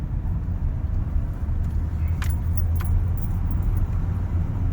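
A car engine labouring in first gear on a long, steep mountain trail in Switzerland, a steady low droning rumble, close and continuous, with faint jangling on top.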